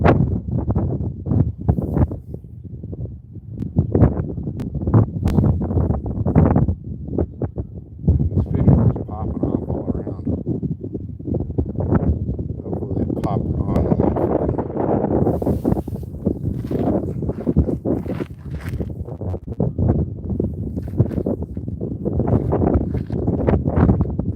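Gusting wind buffets the microphone in a continuous rough roar, rising and falling throughout.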